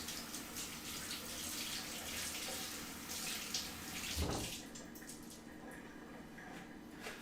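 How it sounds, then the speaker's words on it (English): Running tap water splashes steadily as mushrooms are rinsed, with soft rinsing and a brief louder thump partway through, fairly quiet and close. "I'm just kind of running them under some water."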